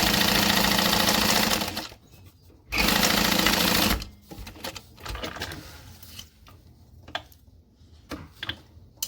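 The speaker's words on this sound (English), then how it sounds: "Make sure you're turning back down your stitch length while you're stitching the bag" A sewing machine stitches a fabric hobo bag together in two loud, steady runs of rapid mechanical chatter, each about two seconds long, followed by quieter clicks and handling noises.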